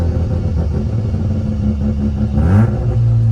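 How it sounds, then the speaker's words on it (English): A Mazda RX-7 FC downshifts to second gear: a close, loud engine drone that briefly blips and rises in pitch near the end, then settles into a steady rumble. "I want to downshift to second, but I don't want to grind it again"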